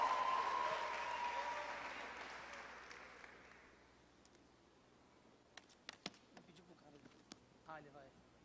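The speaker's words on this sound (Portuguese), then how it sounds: "Será que você pode aplaudir a Deus agradecendo?" Church conference crowd applauds in a large hall, a broad wash of clapping that starts loud and gradually fades away, followed by sparse faint taps and a voice.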